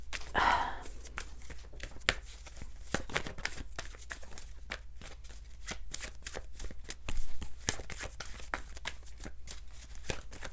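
Tarot cards being shuffled continuously by hand at close range, a soft steady riffling and flicking with brief rustles, quiet and alone without talk.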